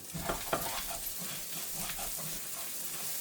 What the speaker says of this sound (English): So my meat's getting brown.